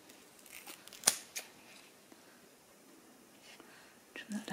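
Scissors trimming small bits off paper for a paper-clip pocket craft, a few crisp close snips, one loud, with faint paper rustle and quiet breathy voice between cuts.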